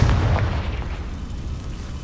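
A Confringo blasting spell bursts in Hogwarts Legacy as a dense, booming explosion, heavy low rumble sustained and loud for about two seconds with no voices.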